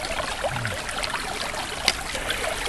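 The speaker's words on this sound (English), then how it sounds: "This is good, clean water running here, let me tell you." Clear, clean water running in a stream at Tom's Run near a shelter and footbridge on a winter day, a close, steady babbling rush with small gurgles and one sharp splash.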